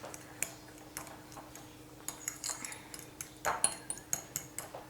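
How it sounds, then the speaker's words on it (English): Baked potato flesh being mushed in its skin with a metal utensil, giving light irregular taps and scrapes, close and fairly quiet with no talking. "And I will mush the potatoes a little bit."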